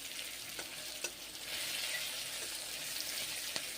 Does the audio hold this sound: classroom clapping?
no